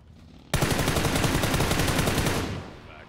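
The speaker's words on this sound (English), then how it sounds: "maybe that was him shooting" Gunfire from a player in PUBG bursts in abruptly as a rapid, sustained automatic volley of close, loud shots lasting about two seconds before tailing off.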